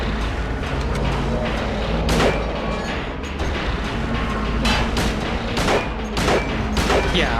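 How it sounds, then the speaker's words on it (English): Gunfire in the survival horror game Silent Hill 2 rings out as a series of loud, scattered shots over a dense, noisy game soundscape, with several sharp reports standing out near the end. "shooting in the back does not seem to make a difference, at least in terms of sound design"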